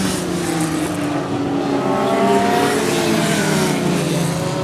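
Race cars circulate at Swaffham Raceway, engines droning steadily with overlapping tones as several cars pass, loud and continuous with no voices.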